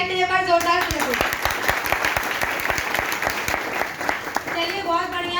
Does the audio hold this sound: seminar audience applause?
yes